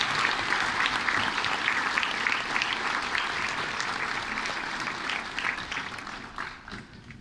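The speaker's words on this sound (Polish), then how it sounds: "Niech nasze brawa będą naszym wsparciem dla niej." A concert audience in a hall claps steadily for a young schoolgirl singer, sustained dense applause that fades slightly toward the end.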